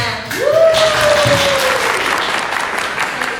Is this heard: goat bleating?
no